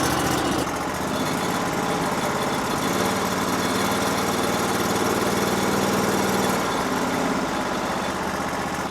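A small petrol engine fitted with a cutting blade runs steadily at idle after starting, a loud, even drone with a low vibrating hum and no change in pitch throughout.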